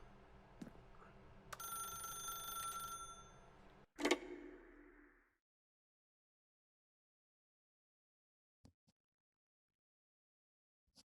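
A telephone rings in The Stanley Parable with a bright, bell-like trill for a couple of seconds. A sharp clunk follows, then the scene falls into near silence with a few faint clicks.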